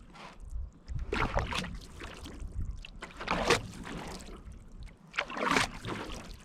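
Dragon boat paddle strokes sound in the water, close by: a few separate splashing, swishing pulls, each surging and fading, with quieter gaps between them.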